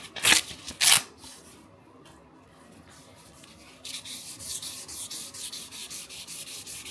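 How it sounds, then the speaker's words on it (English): Fine 2000-grit sandpaper rubbed over a painted mid-century chair, starting with two short scratchy strokes, a brief pause, then a steady run of rapid, close, moderately loud back-and-forth sanding strokes. "now I'm going to smooth it out with the 2000 grit sandpaper"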